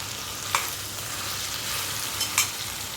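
Chili powder and coriander powder being stirred into okra fried in oil, a low steady sizzle with a couple of brief scraping strokes of a spoon against the pan, close and alone.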